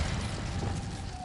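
An Incendio fire spell cast in Hogwarts Legacy on PS4 bursts out as a loud, dense whooshing roar of flame, sustained and steady through its short length with no voices.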